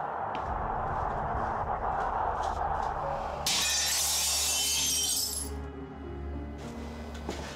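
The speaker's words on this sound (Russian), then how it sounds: "Кто-то подошел к двери, разбил стекло." A glass pane in a door is smashed, giving a loud bright shattering crash midway through with tinkling shards after it, over a low indoor rumble and scattered knocks.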